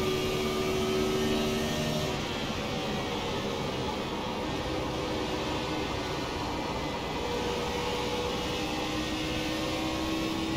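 Race car engine on the Indianapolis Motor Speedway oval in a racing video game, a steady loud drone at full throttle held throughout without clear breaks.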